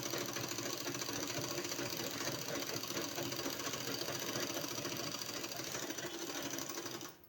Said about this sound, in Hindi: अगर आप चाहें तो यहाँ एक सिलाई और लगा सकते हैं